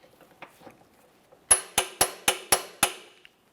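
Six sharp metallic clicks in an even rhythm, close and loud, from a torque wrench reaching 120 foot-pounds on the lower control arm mounting bolts of a 2014-2018 Mazda 3. Faint rustling precedes them.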